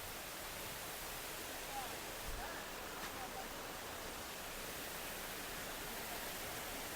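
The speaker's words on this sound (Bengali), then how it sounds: "হয়তো পানির আওয়াজ আপনারা শুনতে পাচ্ছেন।" Water runs down from the hills in Penang Botanical Garden, a continuous even rushing close by that holds steady throughout.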